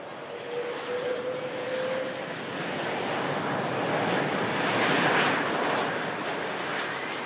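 An Air Transat A380 wide-body airliner landing after a flight from Toronto, Canada, gives a steady, broad jet roar that swells gently and holds throughout, heard from a distance with no voices.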